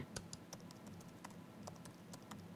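Someone types on a computer keyboard with quick, irregular clicks and taps, close and fairly quiet, with no talking.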